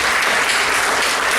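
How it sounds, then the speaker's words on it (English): Dense, even applause fills a sports banquet hall, a continuous roar of many hands clapping at steady moderate volume throughout. "Let's give them a round of applause."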